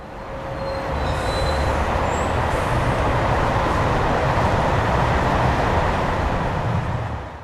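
A train rumbles through Saint-Denis RER railway station, a loud continuous roar of wheels and carriages passing close by for several seconds with a faint high squeal.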